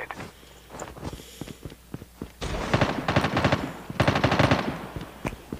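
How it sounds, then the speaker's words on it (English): Rapid automatic gunfire in a battle royale video game, with dense bursts of shots and faster volleys building in the second half, loud and near, with footsteps mixed in. "I'm being shot at."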